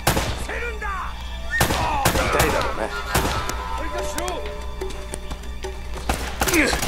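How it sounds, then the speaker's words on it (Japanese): Sharp gunshots crack out in scattered bursts amid sound effects from the PS4 game Uncharted: Drake's Fortune, with someone talking excitedly in Japanese over the shooting. "後ろからも銃声聞こえてるのは気のせいかい"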